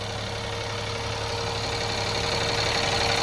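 An LMTV military truck engine idles with a steady, even drone and a faint mechanical hum, unchanging and alone.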